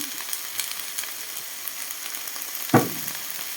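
Snails stir-frying in a hot pan give a steady bright sizzle with soft scraping stirs, and one sharp louder clatter near the end; no one talks.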